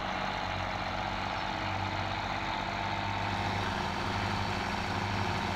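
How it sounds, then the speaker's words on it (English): A virtual tractor engine from the Farming Simulator 17 video game drones steadily and loudly throughout, a constant low rumble with no speech over it. "What a noisy tractor."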